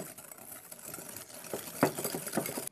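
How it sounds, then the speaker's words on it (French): A hand whisk beats egg yolks with sugar in a bowl, producing quick, rapid rhythmic tapping and scraping that runs steadily throughout, close by and moderately quiet. "à l'aide d'un fouet, je vais fouetter pour faire blanchir les jaunes d'œufs"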